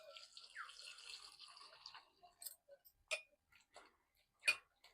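Water is poured into a bowl to wash sattu grains, giving a faint, soft trickle followed by scattered light drips and taps in a quiet room.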